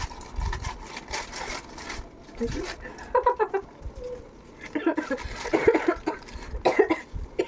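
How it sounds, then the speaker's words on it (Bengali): A few coughs come in short bursts, close by, mixed in with people talking and some light background clatter. "এমনি কাশি হচ্ছে"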